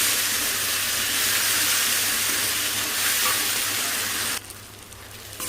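Spice paste for egg curry sautéing in a pan, a loud continuous hiss and sizzle that suddenly drops much quieter near the end, no one talking.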